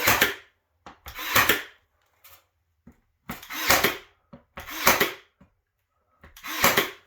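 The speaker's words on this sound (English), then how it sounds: "I'm gonna finish nailing this." Hammer blows driving nails into a tongue and groove ceiling board in a gambrel roof, heard as about five loud, ringing strikes in separate bursts with short quiet gaps and a few light taps between.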